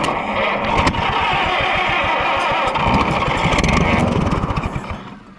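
An Oliver 60 tractor engine cranks and catches, running loud and rough with a fast, uneven throbbing for several seconds before dying away at the end.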